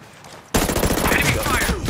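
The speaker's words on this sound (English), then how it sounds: "Enemy fire!" Enemy gunfire in Ghost Recon Breakpoint PVP starts abruptly after a quiet moment and becomes a loud, rapid burst of automatic shots that keeps going, with a voice speaking briefly in the mix.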